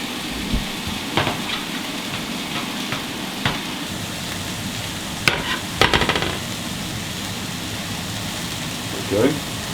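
Mushrooms and steak fry together in a pan with a steady, close sizzle, broken by a few sharp clicks and scrapes from a utensil and pan.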